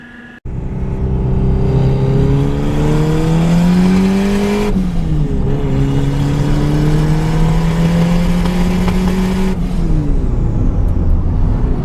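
A car with a D16Z6 engine and an eBay turbo kit is driven, its engine droning loud and close, the pitch climbing through gears with two distinct shift drops and steady revving between.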